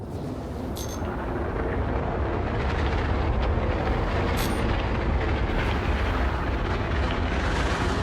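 A steady, dense engine roar with a deep rumble and airy hiss, holding loud and constant throughout, the Khartu-al spacecraft thruster under boost in Star Citizen.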